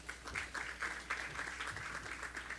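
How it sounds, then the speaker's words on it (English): Audience applause for a panel moderator at a tech startup event in New York, a steady patter of clapping at moderate level from a modest crowd, lasting throughout. "Round of applause for Sasha."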